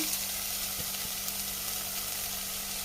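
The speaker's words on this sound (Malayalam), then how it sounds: "ഇതും ചേർത്ത് തക്കാളിയും ഒന്ന് സോഫ്റ്റായി വരട്ടെ അതുവരെ നമുക്ക് വഴറ്റിയെടുക്കാം" Onion and tomato for a cauliflower curry sauté in a pan, giving a constant close frying sizzle with a low steady hum underneath and a couple of faint stirring knocks.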